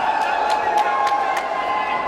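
Steady roar of an arena crowd cheering at an MMA fight between two strikers, dense and continuous with a few sharp bursts rising above the noise.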